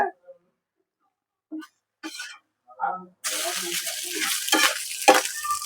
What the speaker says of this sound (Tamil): வறுத்து போடு வறுத்து போடு.